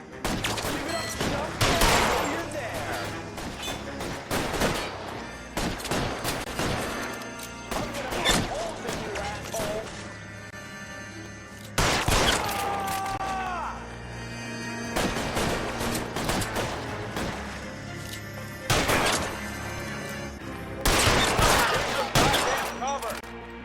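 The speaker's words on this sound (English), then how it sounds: "Fuck, we're shooting." Gunfire in the video game L.A. Noire breaks out as repeated shots and crashing impacts, arriving in loud clusters over about twenty-four seconds. Characters talk in between the bursts.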